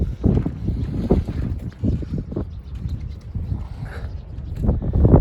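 Plastic film sheeting on a cowshed flaps and rumbles in strong wind, with loud buffeting gusts and repeated low thumps against the microphone and no voices.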